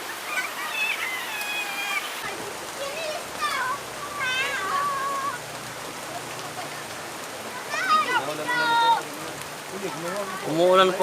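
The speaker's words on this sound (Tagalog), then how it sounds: "Kasalukuyan pong umuulan ngayon" Rain falls steadily at an outdoor pond, a constant close hiss that runs throughout, with faint animal-like calls and voices in the background.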